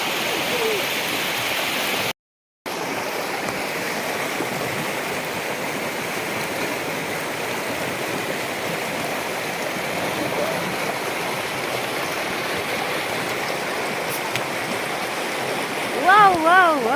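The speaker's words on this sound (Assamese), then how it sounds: "ঝৰ্ণা ঝৰ্ণা কুলু কুলু कर বয়" A waterfall by a river near the Ayang Bridge picnic spot rushes steadily, a continuous close roar and gurgle of flowing water with no break.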